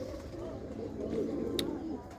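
White pigeons coo faintly in soft, continuous low rolls, with a brief sharp click near the end.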